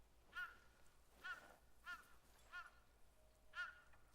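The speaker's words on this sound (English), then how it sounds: "A crow. She has a lot to say." Crow cawing in the video game Ghost of Yotei, five separate caws spaced about a second apart, fairly faint and distant against a quiet background.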